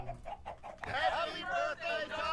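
Chicken clucking in Minecraft: a few short, soft clucks at first, then a voice talks over game sounds.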